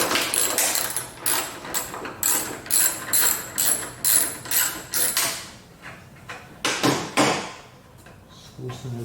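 A hand ratchet loosens a bolt on a 2020 Ford F150 tailgate, close rhythmic clicking strokes repeated in quick succession, then a pause and a few more scattered clicks.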